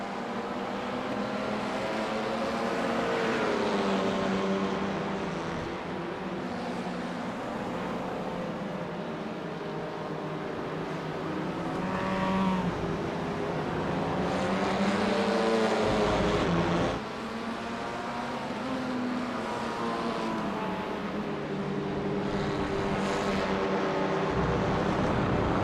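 Race cars from a Clubman Cup and TCR two-hour event roar past continuously, with engine notes rising and falling as they sweep by, loud and sustained with no talk.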